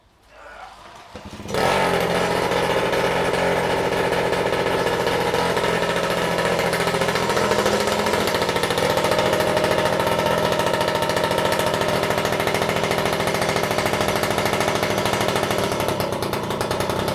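A French moped engine starts and runs loudly and steadily close by, a harsh buzzing drone that continues without letup for the rest of the clip.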